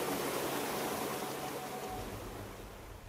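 Water flows steadily around a natural footpath set in a river in Shikotsu-Toya National Park near Sapporo, a soft, even rushing wash that stays constant with no voices.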